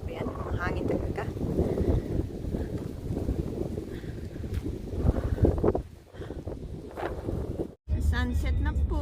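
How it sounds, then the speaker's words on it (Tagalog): Strong gusty wind buffets the microphone outdoors at Birds Hill Park, roaring and fluctuating in loud rushes with a brief lull near the end. A person speaks intermittently over the blustery noise. "Yan, ang hangin talaga."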